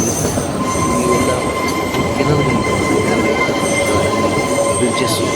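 Kalka–Shimla toy train running on the narrow-gauge mountain railway, heard from on board as a steady loud rumble of wheels on track with thin metallic squeals and faint voices underneath.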